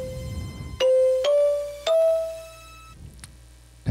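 A Techno-Beat toy keyboard plays its kalimba voice in four plucked, bell-like notes that step upward, each one decaying quickly, followed by a faint tick at the end.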